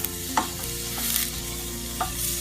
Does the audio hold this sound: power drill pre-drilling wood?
no